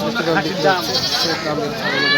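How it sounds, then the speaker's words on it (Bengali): Castrated goats bleat repeatedly at a busy rail-bazaar livestock market in Bangladesh ahead of Eid al-Adha, their wavering calls loud and close beneath constant crowd chatter and talking. "খাসি ছাগলগুলো"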